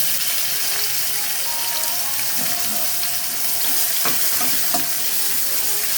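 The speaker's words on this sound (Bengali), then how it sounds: "পেঁয়াজটাকে জাস্ট আমি 2 মিনিট মতন একটু ফ্রাই করে নেব।" Chopped onions frying in hot oil with whole garam masala in a pan, a dense steady sizzle close by with a few faint stirring clicks toward the end.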